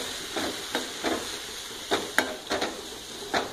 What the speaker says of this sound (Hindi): तो दोस्तों, हमने सब्जी को पूरी तरह से मिक्स कर दिया है।